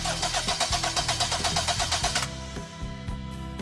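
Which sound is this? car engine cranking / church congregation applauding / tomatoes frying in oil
car engine cranking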